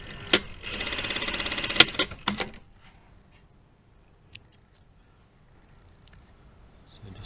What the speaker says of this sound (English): we're just going to sew a 1 centimeter seam along this bottom edge